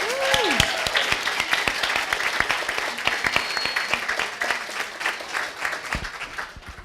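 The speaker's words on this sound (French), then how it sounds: "Une grosse main d'applaudissements pour..." A crowd at a head-shaving charity fundraiser for children's cancer applauds steadily, a dense, sustained clapping that carries through the whole moment with a brief tonal sound near the start.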